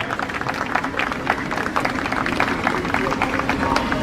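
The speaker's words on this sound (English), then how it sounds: "Ladies and gentlemen, a big round of applause for our very first baton bearer." Steady applause from a crowd at a University of Birmingham Queen's Baton Relay event for the 2022 Commonwealth Games, greeting the first baton bearer, dense clapping filling the space throughout, with some indistinct voices mixed in.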